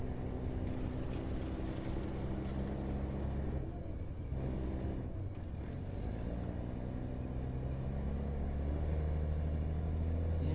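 A heavy M-ATV armored vehicle in the game Squad labors uphill, its engine a continuous low rumbling drone with a strong steady hum that dips briefly midway before pushing on.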